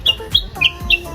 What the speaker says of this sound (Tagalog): Gusto mo makita ng ibon.